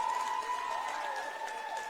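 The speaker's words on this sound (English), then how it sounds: "Ouachita getting a big round of applause from there" Crowd clapping in a gym at a high school basketball game between Ouachita and Pineville, a steady sustained wash of applause with a faint tonal hum running through it.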